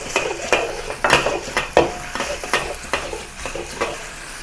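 Garlic and green onion whites stir-fried in a pan at home, heard as a run of metal spatula scrapes and clinks against the pan, about eight distinct strokes over a soft, steady sizzle with no talking.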